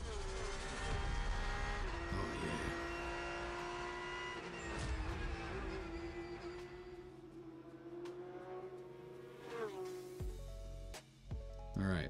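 Car engine sound effects in a motorsport video reel, a steady engine drone with tonal revving and passing whooshes, fairly quiet and low in the mix, ending with a deep rumble.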